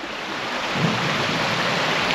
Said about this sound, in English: The lovely river is flowing.